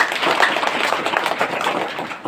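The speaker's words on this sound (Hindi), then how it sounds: "ये मरकम के लिए ताली बजाओ सब।" Schoolchildren at a Gondwana school clap together in a dense, continuous patter of many hands, fairly close and steady for a couple of seconds.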